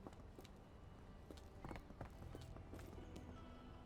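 Horse hooves clopping and a horse neighing in the video game Sherlock Holmes: The Awakened, soft scattered hoof steps with brief whinny-like calls, faint and fairly distant against a low ambient background.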